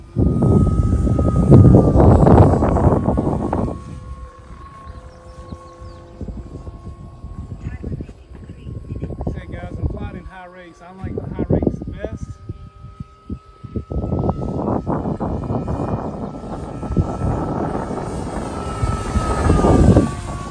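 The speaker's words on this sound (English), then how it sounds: "Full speed pass." RC P-51 Mustang scale model plane, an H-King 1016mm sports scale Hot Rod version, making a full speed pass in stiff wind, its engine whine rising and fading as it passes, with people talking over it.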